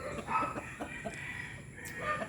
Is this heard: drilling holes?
no